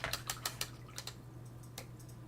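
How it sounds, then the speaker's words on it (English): Masking tape peeled off a finished watercolor painting, heard as a series of sharp, close crackling rips in short bursts over a steady low hum. "I'm going to take the tape off."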